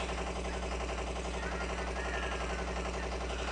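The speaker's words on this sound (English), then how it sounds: "And now I shall use the machine gun." Rapid, unbroken machine gun fire as a sound effect in an Elmo animation, loud and dense, running steadily throughout with a tonal layer underneath.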